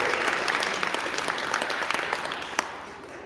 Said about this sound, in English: Big round of applause for Kaylin.